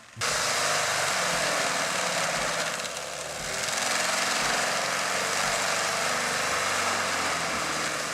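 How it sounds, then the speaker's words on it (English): An all-wheel M650 forestry mulcher with a 25.6-inch rotor shreds tree stumps, a loud continuous engine roar and grinding that dips briefly midway and then keeps going. "This mulcher rips through medium to heavy forestry work."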